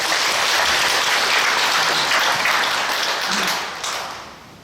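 A church congregation gives a round of encouraging applause during a Sunday service with sign-language interpretation, a full, even wash of clapping that thins and fades toward the end.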